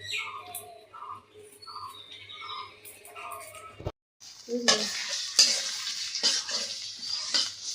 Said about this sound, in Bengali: এই যে আমি বাগার দেওয়ার জন্য পেঁয়াজ রসুন আর তেল দিয়ে দিলাম